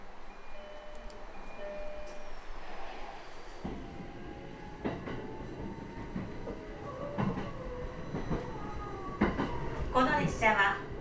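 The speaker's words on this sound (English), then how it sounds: "This train is Jyoetsu Express" Jyoetsu Line local train running on rails near Minakami, Japan, with a steady rolling rumble, rhythmic wheel clunks over rail joints and a brief squeal near the end, heard from on board.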